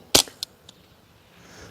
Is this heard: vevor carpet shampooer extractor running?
no